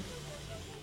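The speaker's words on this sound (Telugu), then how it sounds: "ఒక్కసారి ఈ వాటర్ ఫ్లో ఒక్క సౌండ్ కానీ" Water of the Kaveri river rushing at Hogenakkal Falls, a steady, loud broadband roar with no break across a brief moment.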